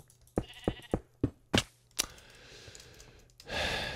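Short sheep bleats from the Minecraft video game, a rapid series of about five or six clipped calls close together, followed by a brief crack and a wash of hissy noise near the end, with no talk.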